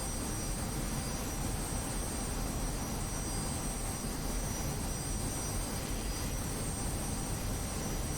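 F-86F Sabre jet flying in a flight-simulator mission over the Yalu, a constant roaring engine hiss with a faint high whine, steady and unchanging throughout, no voices.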